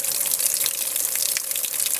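Steady, hissing stream of water pouring from a shower in a remote wood-heated cabin, continuous and close with no voices.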